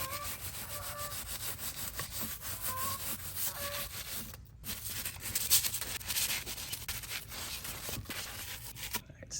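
A stiff brush scrubs an old wheel with brisk, continuous back-and-forth rubbing strokes, close and moderately loud, with a short break partway through before the scrubbing resumes.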